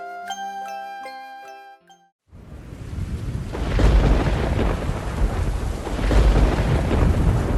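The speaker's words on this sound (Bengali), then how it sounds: "রাত্রে বৃষ্টি নামে হুহু বাদলার হাওয়া" Heavy rain pours down at night in a dense, steady roar with gusts of wind swelling and fading, preceded by a few seconds of soft tinkling chimes.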